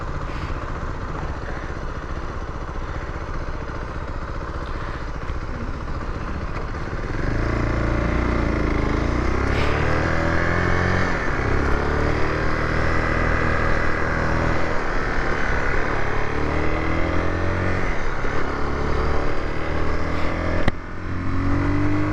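A 2026 Beta ALP X motorcycle engine idles, then revs hard several times in rising sweeps toward its 12,000 RPM redline, loud and close with no talk.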